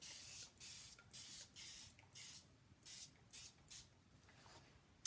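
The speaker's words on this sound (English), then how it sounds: "I'm going to take my Mr. Bottle again, and I'm going to give this a spray." A handheld mister bottle sprays water over a paint inlay sheet, giving a string of about ten short, crisp hissing bursts in a steady rhythm, close and alone.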